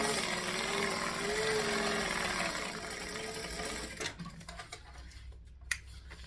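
Sewing machine running steadily as it stitches a quarter-inch seam allowance along a fabric edge, a continuous close mechanical whir for about four seconds before stopping, followed by quiet handling noises.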